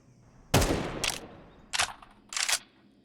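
AK rifle fire in Counter-Strike during a match on Ancient: short bursts of sharp gunshots, a heavy volley first, then two quicker clusters, crisp and close over a quiet background.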